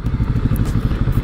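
QJ Motor SRK 700 motorcycle on the move, a loud, close, steady engine rumble with a throbbing pulse and some wind rush.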